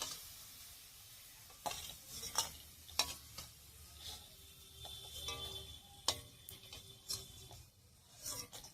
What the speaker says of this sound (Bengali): এর থেকে বেশি করলাগুলোকে একটু মুচমুচে করে ভেজে নেব